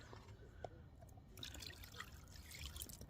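A freshly caught carp is rinsed in water at the bankside, giving soft, faint splashing and trickling that runs on steadily over low background noise.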